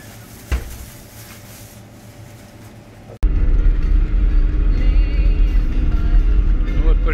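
A car overtaking on a road near Kapchagay in snow, rain and fog, heard from inside: a quiet cabin hum with a thump, then the engine note jumps to a loud, steady roar as the car pulls out to pass.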